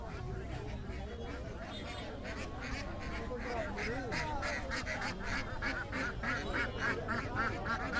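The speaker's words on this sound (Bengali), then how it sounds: "এই যে যে হাঁসের প্যাক প্যাক সাউন্ড দেখেন কত হাঁস নিয়ে এসছেন এখানে" A crowd of ducks quacks and honks busily at a rural village market in Kirtipur, Naogaon, the calls overlapping at moderate distance and growing denser toward the end, with people talking over them.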